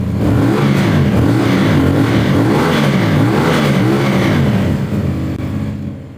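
A CF Moto CL-C cruiser motorcycle's exhaust, recorded close up, revs loudly in repeated rising and falling sweeps before easing off toward the end.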